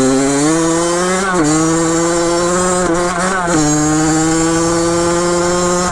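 A Kawasaki KX80 dirt bike engine fitted with a cheap Chinese carburetor runs loud and close in a continuous buzzing two-stroke drone, its pitch dipping and recovering briefly a few times as it stumbles, with no voices.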